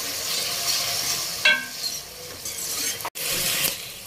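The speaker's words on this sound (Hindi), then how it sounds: "ये 2 मीडियम साइज के टमाटर हैं, ये शामिल करेंगे अब इसमें और इसकी अच्छे से भुनाई करेंगे।" Two medium tomatoes frying with potatoes and fenugreek leaves in a pan, a steady close sizzle with brief stirring scrapes and a short pause near the end.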